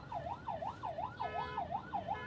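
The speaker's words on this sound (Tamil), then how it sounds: "இந்த மாதிரி பாயிண்டில் ஒரு ஆம்புலன்ஸ் வருது." An ambulance siren wails on a road with a rapid rising-and-falling electronic sweep repeating about six times, moderately loud and steady, heard from inside a 2022 Hyundai Tucson.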